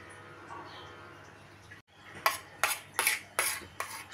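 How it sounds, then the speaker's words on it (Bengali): Cooked flat beans being ground into a mash on a stone shil-pata grinding slab. A few sharp scraping, knocking strokes come in a steady rhythm, close and fairly loud, after a quiet start. "শিলপাটায় পিষে নিলাম,"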